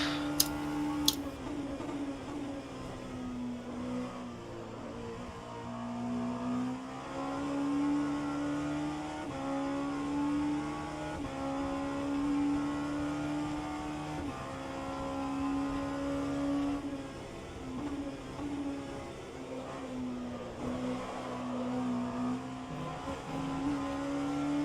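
A race car engine in rFactor 2 at Sebring drones steadily, its pitch rising and dipping through gear changes and corners, with two sharp ticks at the start and no voices.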